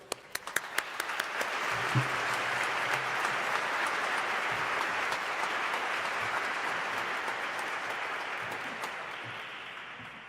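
An audience at a combined Air Force and Navy ROTC commissioning ceremony welcomes Colonel Jermulowitz with sustained applause that swells from scattered claps into steady clapping, then slowly tapers, with a few faint voices underneath.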